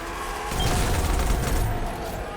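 Explosions and gunfire roar in the Destiny 2 video game, a dense continuous barrage that swells louder in the middle and stays constant, with no talk.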